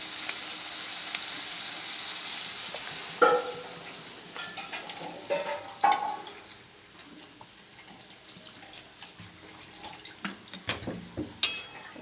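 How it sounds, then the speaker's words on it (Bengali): Water is poured into spice masala frying in oil in a pan for a rohu fish curry, bringing bursts of hissing sizzle and splashes over a quiet, steady frying crackle. "এবার আমি জল পরিমাণ মতো জল দিয়ে দিচ্ছি"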